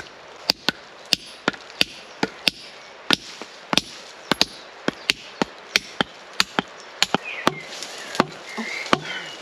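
A hammer strikes a cold chisel while metal barriers are taken apart outdoors, landing as a steady series of about twenty sharp, loud metallic blows at a regular pace, close by, with no voices.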